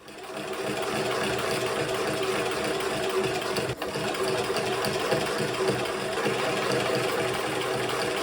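Sewing machine stitching jacket pieces together into boot liners, a steady fast mechanical whirring hum running close and continuous, with one brief pause in the middle.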